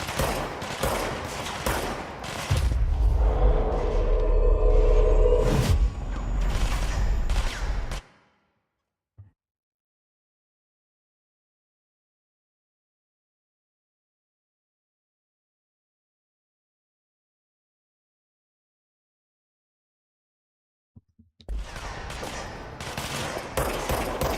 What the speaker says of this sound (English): Stop shooting my boys.